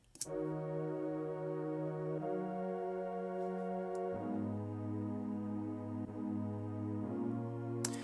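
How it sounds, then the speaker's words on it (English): A synth pad holding straight chords from a beat's progression, long sustained tones that change roughly every two seconds, smooth and even, alone with no voices. "And now the pad by itself sounds like this"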